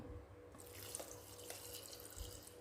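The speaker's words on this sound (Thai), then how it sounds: "ใส่น้ำเย็นเข้าไปให้ท่วมเลยค่ะนี่" Cold boiled water is poured into a jar of fermenting cabbage and green onions, giving a faint, steady trickling splash that lasts a few seconds.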